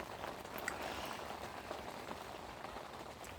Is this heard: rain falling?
yes